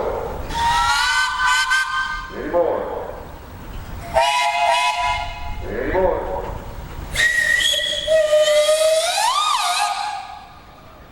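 A steam whistle at a threshers' steam show sounds in several loud, bright blasts, with pitch bends on the last long call, and people speak briefly between the blasts.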